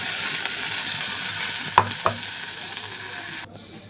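Spices with nigella seeds and asafoetida frying in ghee, a steady bright sizzle with two quick stirring knocks midway before the sound cuts off.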